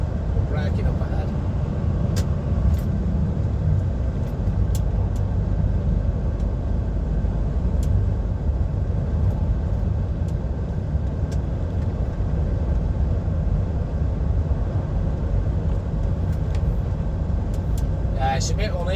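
Steady low rumble inside an HGV lorry cab driving an uneven road out of Honiton in East Devon, with a constant engine drone, occasional knocks and someone talking over it.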